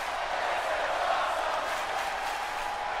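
In the WWE 2K20 women's revolution showcase mode, a steady wash of arena crowd noise rises in cheers, constant and moderately loud with a slight swell in the middle.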